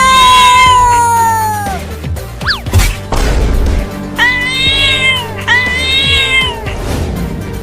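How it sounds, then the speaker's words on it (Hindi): A cartoon cat meows loudly several times in drawn-out, wavering cries, separated by a brief crash and thumping noises at close range. "एक खतरनाक बिल्ली घर में कैसे आ गई?"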